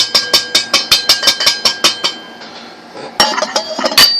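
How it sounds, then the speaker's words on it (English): A Strike Force ferro rod fire starter struck with its scraper gives a rapid series of sharp metallic scrapes, about a dozen evenly spaced strokes, a short pause, then a quicker burst of bright rasping strikes close up. "this is the Strike Force. You just barely have to hit that one."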